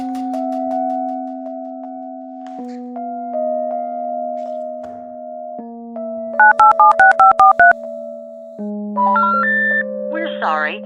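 A telephone network intercept signal for a call that cannot be completed as dialed: a series of sustained, stepped electronic tones, a quick burst of short pulsed beeps near the middle, then further rising tones, clean and loud with no talk over them.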